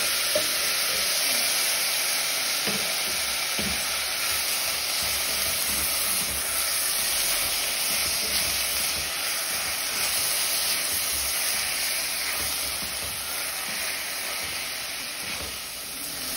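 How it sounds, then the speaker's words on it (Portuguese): Tomato sautés in a hot pan for stroganoff, giving a steady, dense sizzle with bright hiss that holds evenly throughout, close and unbroken, with no one speaking. "agora eu vou colocar a tomate também para refogar"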